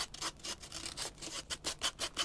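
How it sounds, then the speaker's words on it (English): Hand sanding of a foam block being sculpted into a model road, a close series of rhythmic rasping strokes that grow more regular and pronounced toward the end. "I'm just going to kind of do that the whole way up, about the same height as the road, and sand that real quick"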